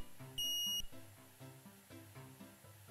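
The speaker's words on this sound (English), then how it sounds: "That noise is coming from your carbon monoxide detector." A carbon monoxide detector lets out one short, piercing high beep over a soft background of low musical tones, with no voices.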